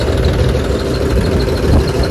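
A tractor engine idles close by with a steady, dense low rumble that holds unchanged from start to finish, with no voices over it.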